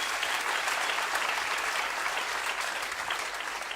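A church congregation bursts into sustained, dense applause during a sermon, a steady wash of many hands clapping with no pauses.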